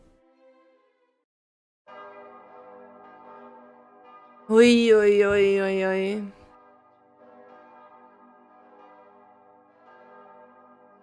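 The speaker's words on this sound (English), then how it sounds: "The damn bells haven't stopped ringing all day." Church bells toll in the distance with a sustained, resonant ring; a single strong bell strike swells loud for about two seconds amid fainter ringing, while a voice calls out briefly before it.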